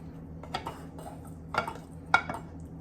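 Soft scraping and a few light clinks as Italian sausage and onion mixture is stirred into cream cheese in a bowl, quiet and close with no talk.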